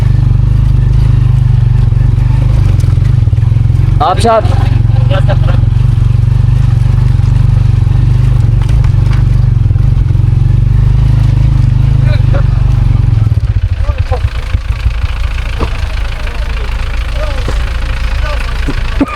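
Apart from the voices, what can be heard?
motorcycle riding on a rough, broken mountain road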